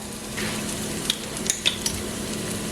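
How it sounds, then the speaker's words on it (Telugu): Ginger paste frying in hot oil for paneer butter masala gives a steady, close sizzle, broken by a few light clinks of a spoon against the pan. "ఇప్పుడు అల్లము పేస్ట్ కొంచెం మనకి ఈ ఆయిల్లో పచ్చి వాసన పోయే వరకు ఫ్రై అయితే టేస్ట్ బాగుంటుంది."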